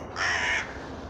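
Crow cawing in a forest park, one loud, hoarse call lasting about half a second, close and clear over quiet outdoor background.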